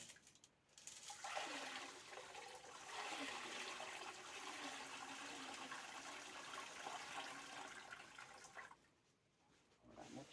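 Washed gravel poured into a goldfish tank's water, a steady close rushing, splashing wash of stones and water lasting several seconds before tapering off, quiet overall.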